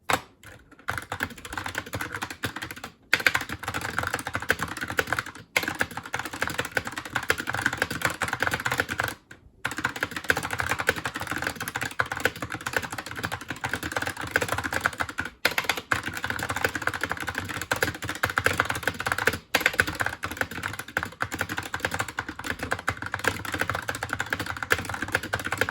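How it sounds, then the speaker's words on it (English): Steady typing on a Razer Huntsman Tournament Edition keyboard with linear optical switches, a continuous dense patter of close key clacks with brief pauses, heard alone without speech. "let's do a 30-second type test to get a feel of the sound"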